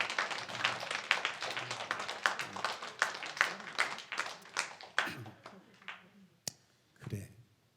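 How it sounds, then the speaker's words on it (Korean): A small group clapping in a sermon setting, a few hands at a rhythmic, slightly uneven beat that slows and thins out, ending in scattered last claps, close and moderately loud. "오호, 박수를 해줄까요?"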